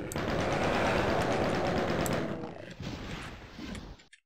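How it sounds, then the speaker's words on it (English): Dense, roaring gunfire from enemies in The Ultimate DOOM, a sustained loud barrage that thins out after a couple of seconds into scattered shots and then stops abruptly. "Who's shooting at me?"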